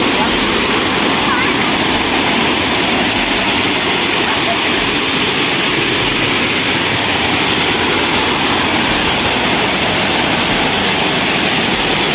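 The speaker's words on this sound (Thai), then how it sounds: "ก็มาถึงน้ำตกแล้วนะครับ" A Thai tourist waterfall roars with a dense, continuous rush of falling water, loud and unbroken throughout.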